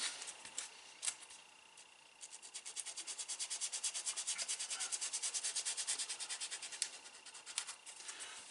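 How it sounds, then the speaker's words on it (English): Edge of a leather card wallet pocket sanded by hand, a steady fast rhythmic rasping of strokes, close and fairly quiet, with no talking. "I need to go around and I need to just sand that edge a little bit."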